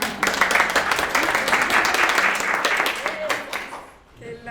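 Audience applause at an academic panel on professional insertion: a crowd claps steadily in a dense, fairly loud patter for about four seconds before it fades and a voice begins.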